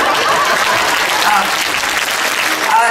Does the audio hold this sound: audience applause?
yes